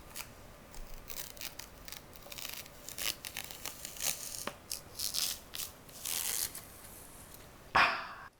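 Protective film peels off a new Nikon Z9 camera in a run of short crackling, crinkling tugs at uneven intervals, close and fairly quiet, ending with a louder rip.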